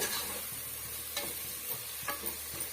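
Coriander powder stirred into a curry base frying for bamboo shoot kuzhambu, a steady close sizzle with a few soft scrapes of the spoon against the pan, no voices.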